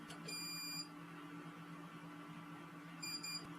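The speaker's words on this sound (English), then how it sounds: "it will start beeping because it's not attached to a power source" Two short bursts of high electronic beeping from an uninterruptible power supply running on battery, one near the start and another near the end, over a steady low electrical hum.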